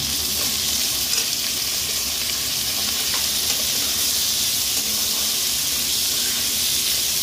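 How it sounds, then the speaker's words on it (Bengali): Cut potatoes and onions fry in a pan with a loud, dense, continuous sizzle and hiss, close up, with faint stirring under the steady crackle throughout. "আলুগুলোকে অল্প একটু ভেজে নেব।"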